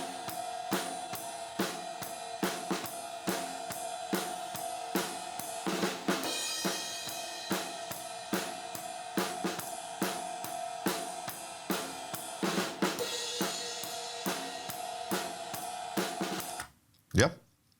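Drum overheads from a full kit, softened with a Slate Digital de-esser preset, play a steady groove of regular cymbal and snare hits with bright, dense wash, stopping abruptly near the end with one last isolated hit.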